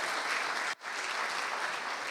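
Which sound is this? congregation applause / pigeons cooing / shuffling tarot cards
congregation applause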